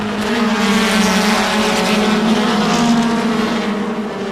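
Race cars in a 1990 SCCA National Championship event, a Honda CRX among them, pull away from the flag, loud sustained engine drone with layered revving tones close by and no talk.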